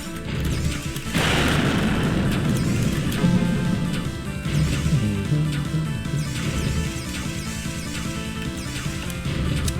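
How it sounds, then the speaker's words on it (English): A dense barrage of explosions in the video game Fabla, with an initial heavy crash followed by continuous booming, crackling blasts layered over game music, loud and close throughout. "That's a bunch of explosions close to me."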